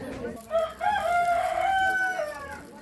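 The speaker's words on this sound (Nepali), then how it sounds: "भाले करा ठ्याक" A rooster crows loudly nearby, one long drawn-out cock-a-doodle-doo rising and holding before trailing off.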